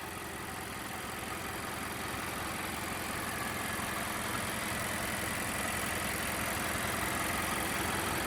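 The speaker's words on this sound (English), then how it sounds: "nice and smooth running engine, no odd noises or vibrations" A 2016 Mazda 3 four-cylinder engine idles steadily with a smooth, even rumble and a faint rhythmic ticking, constant in loudness throughout with no other sounds.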